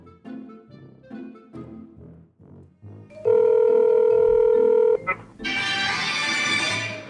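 A phone dials out to add a third person to a conference call, with a steady dial tone holding for about two seconds and a short burst of electronic tones after it. Talk comes before, and a loud hiss follows.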